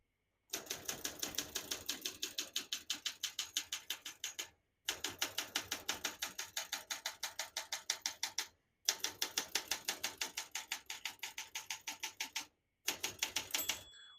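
Rapid, steady keystrokes on a 1966 Olympia SM9 vintage portable typewriter, typed in three long bursts separated by brief pauses, with a short final flurry, close and clear with no talking.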